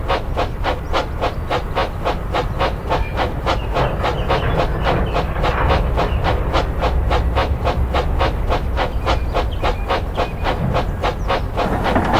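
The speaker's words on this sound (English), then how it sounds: "One afternoon, Donald took a supplies train to the works." A steam train hauling supplies runs steadily with a rapid, regular chuffing beat and a constant rumble, loud and close throughout.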